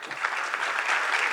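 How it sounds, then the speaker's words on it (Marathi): An audience claps loudly, a dense burst of steady applause that lasts throughout with no speech over it. "सगळ्यांचं खूप जोरदार टाळ्या वाजून"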